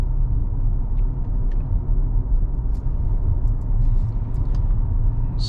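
A 2022 Audi Q7 45 Premium accelerates along a straight road, heard from inside as a steady, close low engine and road rumble with no talk.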